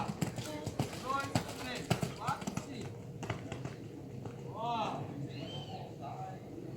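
Horse hooves clip-clopping during riding training, a run of sharp, fairly close hoofbeats in an uneven rhythm that thins out later, while a voice talks over them and faint bird calls come in.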